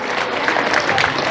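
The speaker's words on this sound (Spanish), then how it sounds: "Fuerte voto de aplausos a toda la familia en general." Wedding guests clap together in a short burst of dense, steady applause, close and lively, with no talk over it.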